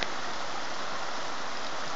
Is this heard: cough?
no